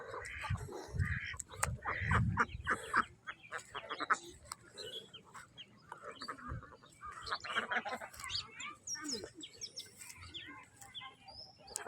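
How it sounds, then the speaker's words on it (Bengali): Ducks at a village home play in water, giving scattered quacks and chirpy calls mixed with faint splashing, fairly quiet and distant, with a soft voice now and then. "শ্বশুর বাড়ির হাঁস কি সুন্দর পানিতে খেলতেছে।"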